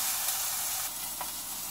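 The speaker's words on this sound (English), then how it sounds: "We'll put these on the grill and watch Georgie cook them." Hamburgers and bacon sizzle on a grill with a soft, steady hiss and faint crackle, one brief pop near the end, no voices.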